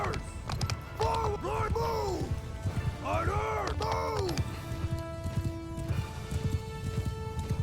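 Horse hooves thud rapidly and continuously in a Mount & Blade II Bannerlord battle, with in-game voices shouting and calling over the galloping, while someone talks throughout.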